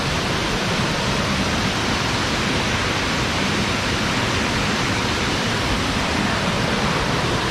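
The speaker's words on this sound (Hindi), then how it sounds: "यहाँ से पानी पूरा बहता हुआ आया है" Monsoon runoff stream flowing through a Himachal mountain jungle, a steady, loud broadband rush of water that stays constant throughout with no talk.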